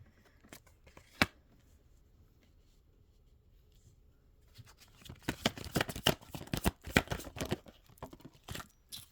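Tarot cards being shuffled and dropped, starting with a couple of isolated flicks, then a dense burst of rapid riffling snaps and slaps close by, with no talking.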